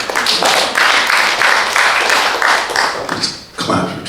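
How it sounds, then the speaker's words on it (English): A comedy club audience claps along in a loud, rhythmic beat of repeated bursts at close range, then the clapping loosens and tails off near the end. "Just clap for traveling"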